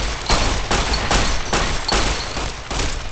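Gunfire from the video game Fallout New Vegas: a loud, sustained volley of shots in rapid bursts, each broadband blast following closely on the last for several seconds with no pause.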